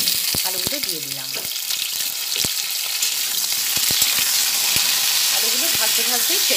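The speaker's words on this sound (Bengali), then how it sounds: "তেলটা গরম হয়ে গেছে, তারপরে এর মধ্যে আলুগুলো দিয়ে দিলাম।" Potatoes frying in hot oil in a pan for a potato dum dish, with a steady loud sizzle throughout and occasional stirring clicks, close by, with no talking.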